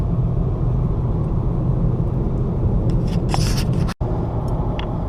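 Steady low road rumble and tyre noise from inside a car driving on a highway toward Hamburg, with a few light rattles and a brief dropout near the end.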